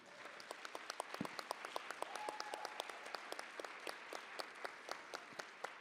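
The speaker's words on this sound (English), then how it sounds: "give another round of applause to this panel" A conference audience applauds a panel at an opening session, steady dense clapping with sharp individual claps standing out, moderately distant and sustained throughout with no talking.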